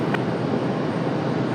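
A Gulfstream jet taxiing at Raleigh-Durham airport gives a steady, fairly loud broadband engine roar with wind-like hiss, holding constant throughout with no talk.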